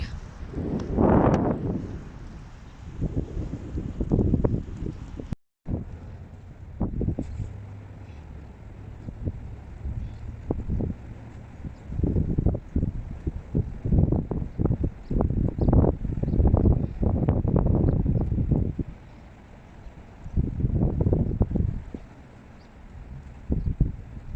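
Gusts of wind buffet the microphone in rough, rumbling bursts that swell and fade outdoors.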